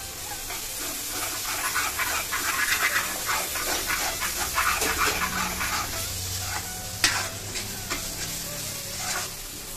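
Shankeshwari chilli paste, coriander, turmeric and homemade red chilli powder fry in a pan for Mumbai street-style pav bhaji, with a loud, continuous sizzle, stirring scrapes and a sharp clack near the end.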